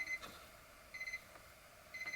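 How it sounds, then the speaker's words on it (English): A weather station in a workshop gives three faint, evenly spaced electronic beeps, each a short high double chirp, about a second apart against a quiet background. "Sorry about that beeping, that's my weather station."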